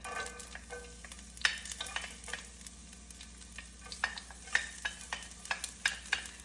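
Green chili, garlic and ginger sauté in hot oil with a mustard-seed tempering, a soft sizzle under repeated light scrapes and taps of a spoon stirring the pan.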